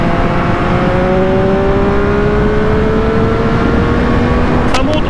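A Triumph Street Triple 765 RS motorcycle engine climbing high in the revs, a loud continuous whine with rising harmonic tones under heavy wind rush, a brief sharp click near the end.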